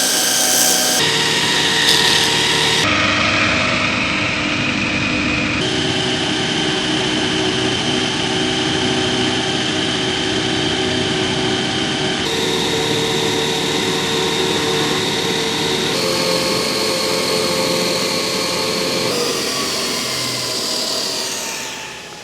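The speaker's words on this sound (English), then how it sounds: "I'll just give that a bit of a buff over here on the old linisher" A linisher belt sander buffing a small burr off metal stock in a workshop, roaring loudly and continuously with slight shifts in tone as the piece is pressed and moved against the belt, no voices.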